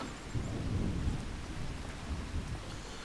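Thunderstorm in Farming Simulator 25, with rain pattering steadily and low rumbles of thunder rolling beneath it, all of similar loudness, with no voices.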